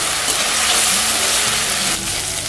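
Ginger garlic paste fries in a pan for paneer kaliya with a loud, dense, continuous sizzle that stays steady from start to finish.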